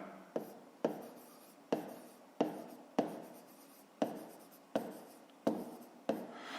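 A hand writes out a fifth-grade math solution on paper, pen strokes scratching in short repeated bursts, each starting with a sharp tap and fading, quiet and close with no voices.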